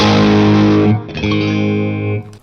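An electric guitar played through overdrive and compression rings out as a thick, sustained distorted chord, then shifts to a second held chord that fades out, close and loud.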